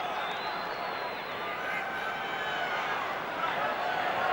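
A steady crowd roar fills a rugby league semi-final stadium, broad and sustained throughout with a slight swell near the end, under a commentator's voice.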